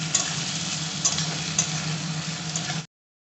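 Chopped onions fry in a pan with slit green chillies, a constant close sizzle with a few faint ticks of stirring, ending abruptly.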